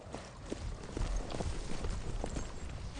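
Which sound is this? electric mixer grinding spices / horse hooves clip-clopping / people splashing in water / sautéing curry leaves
horse hooves clip-clopping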